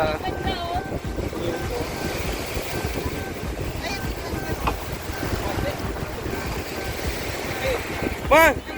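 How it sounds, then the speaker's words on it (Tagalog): Strong wind roars steadily against the microphone while waves wash and slosh nearby at Subic Bay in the Philippines; voices speak faintly beneath the gusts. "Lakas ang hangin, lakas ang alon."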